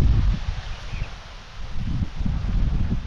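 Strong wind gusts through an open rural area as heavy rain sets in, buffeting the microphone with low, uneven rumbling bursts. Faint rustling carries underneath throughout.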